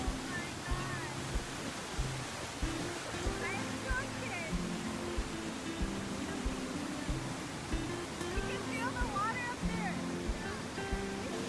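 Niagara Falls thunders down in a constant deep roar of rushing water from nearby, while people's voices murmur faintly beneath the din.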